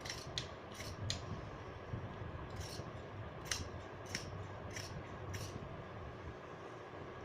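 Scissors cut through shirt fabric in a series of crisp snips, about a dozen irregular cuts at close range, fairly faint over a low room hum, with no talking.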